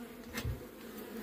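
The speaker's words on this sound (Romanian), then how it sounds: "E și albinuța acolo." Honeybees hum steadily at an open hive during a November brood inspection, a soft, continuous drone close by with no talking.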